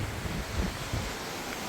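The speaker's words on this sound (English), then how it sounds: "you can listen to the ocean sound" Ocean waves heard from a cruise ship make a steady, hissing wash of surf blended with wind noise, constant and moderately loud throughout, with no voices.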